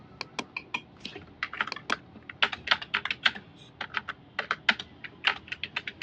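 Rapid keystrokes clatter on a computer keyboard as text is typed into MS Word, dozens of crisp, close clicks in uneven bursts with brief pauses, no speech over them.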